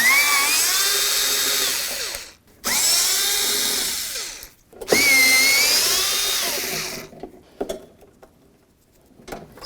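A power drill backs screws out of the door of a 1988–2002 GMC Sierra 1500 pickup, running in three long whirring bursts that speed up and slow down. Short pauses and a few light clicks fall between the bursts.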